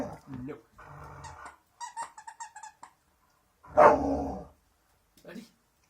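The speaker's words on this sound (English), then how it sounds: "so that's our dog playing with her new toy" A pet dog playing with her new toy growls and barks in short bursts at close range, with a toy squeak and people talking nearby.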